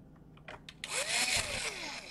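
A power tool trims the hole for the power jack inlet on a Lenovo E570 laptop. A few short taps are followed by a rising, whining burst of motorized cutting, close and fairly loud, lasting just over a second.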